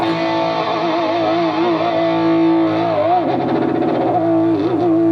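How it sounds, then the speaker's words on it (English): A sustained synth tone through a Kaoss Pad KP2 pitch vibrato effect wavers in pitch, its wobble growing deeper and faster partway through, loud and steady with no talking. "It's like a pitch vibrato."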